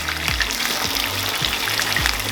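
Meatballs fry in a pan with a busy, bubbling sizzle that holds steady and close, with soft low thumps recurring beneath it.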